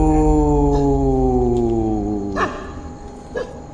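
At night, a dog howls in a long, drawn-out tone that slowly falls in pitch. A second, fainter howl and a few light yips follow.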